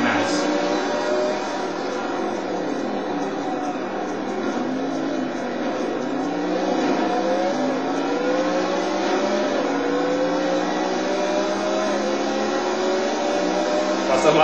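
In the racing video game Total Immersion Racing, a race car engine drones and revs at a steady loud level, its pitch sliding up and down through gears, with a sharper burst at the very end.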